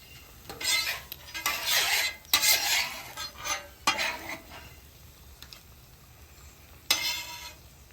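Chips are added onto a pizza grilled cheese cooking on a greasy hot griddle, with bursts of crinkly rustling and metallic spatula scrapes in uneven clusters over a faint sizzle, close up and without talk.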